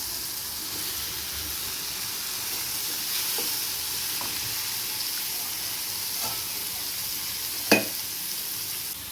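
Chopped capsicum for poriyal stir-fries in a hot pan with a steady bright sizzle and hiss, broken by occasional soft scrapes and one sharp clack of a spatula against the pan.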